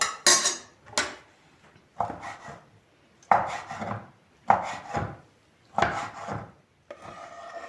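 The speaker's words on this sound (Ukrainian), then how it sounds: "І зараз я їх поріжу дрібненькою соломкою." A knife chops soaked mushrooms into thin strips on a cutting board in short scraping strokes, repeated roughly every second, close and moderately loud with no voices.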